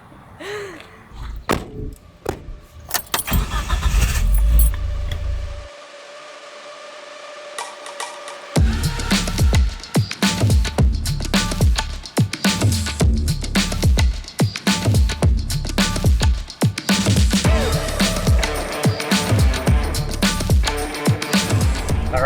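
A Suzuki with a manual gearbox starts off after a door slam and thuds, its engine then running loudly with uneven revving and bumps for the rest of the stretch.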